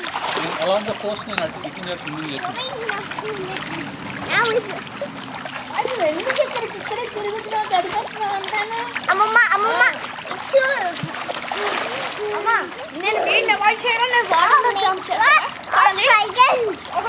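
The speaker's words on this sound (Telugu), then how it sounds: "డాడీ బ్యాక్ స్విమ్మింగ్ చేయండి" Water splashes steadily as someone swims backstroke in a pool during summer, the splashing running under a child's and adults' chatter throughout.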